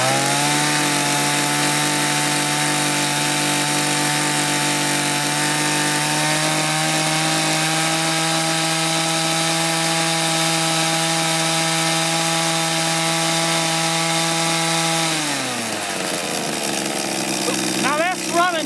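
A two-stroke chainsaw engine screams at steady full throttle for about fifteen seconds, loud and close, then drops sharply as the revs fall away toward idle.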